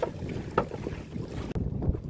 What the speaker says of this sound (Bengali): প্রচণ্ড হাওয়া বাজছে